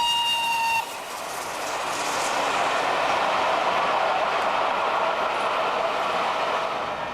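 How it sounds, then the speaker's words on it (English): Steam locomotive A4 Union of South Africa hauling a Torbay Express past Cockwood Cove, a steady loud rolling rumble of the train going by, with a short horn-like whistle tone at the very start. "The motive power included A4 Union of South Africa, which passes Cockwood Cove."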